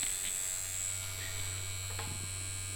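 A Mast Archer S wireless tattoo pen runs with a large needle, giving a steady close electric buzz with a low constant hum throughout.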